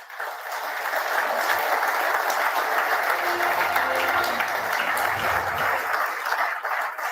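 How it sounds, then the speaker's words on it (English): Audience at the Ramnath Goenka Awards for Excellence in Journalism applauding to welcome Chief Justice D.Y. Chandrachud; loud, dense, sustained clapping fills the hall steadily for the whole stretch. "after your warmest claps"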